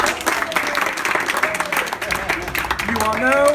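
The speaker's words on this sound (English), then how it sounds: "Ella, can we have a round of applause, please?" A round of applause from a seated audience at a Toastmasters gathering, dense continuous clapping held at an even level throughout, with a voice speaking over it near the end.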